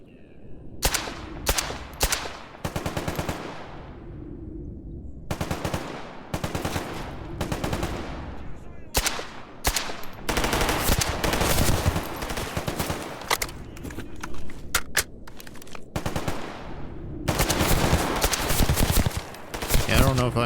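Rapid automatic gunfire from weapons in the video game S.T.A.L.K.E.R. GAMMA, several loud close bursts of shots separated by short pauses, with a voice talking briefly.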